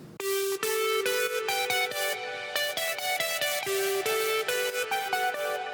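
A bright synthesizer lead, a Pigments preset in Analog Lab, plays a stepping melody of sustained, buzzy notes, loud and steady throughout with no voices.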